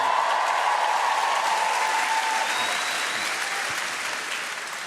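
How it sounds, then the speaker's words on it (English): A comedy club audience, women loudest, bursts into dense, sustained applause and cheering that fills the room and slowly fades toward the end. "A lot of cheering from the ladies there."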